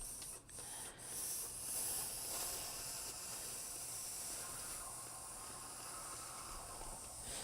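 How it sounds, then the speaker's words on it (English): Steam hisses continuously from a handheld steamer used to block a crocheted shawl, a steady close rushing spray with a couple of brief dips near the start. "I want to make sure that I am applying enough steam to the project"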